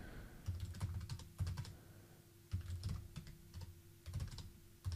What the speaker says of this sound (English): The rest is just typing out a command.